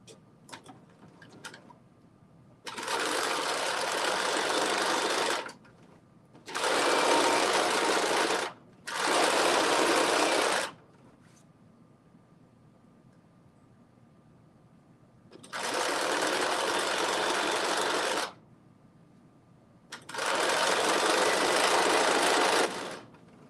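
Sewing machine stitching two back pieces of a garment together at a 5/8 inch seam allowance, running in five steady bursts of a few seconds each, separated by pauses, with brief ticks between runs.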